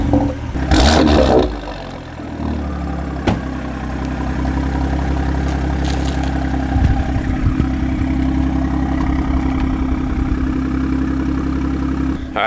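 A BMW M340i with a Master of Art and Design catback exhaust rumbles steadily, with a brief loud rev near the start settling into a sustained droning idle close by.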